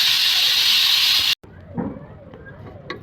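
A pressure cooker with gongura mutton inside blasts a loud, steady steam whistle that cuts off abruptly, followed by quieter kitchen clatter and faint knocks.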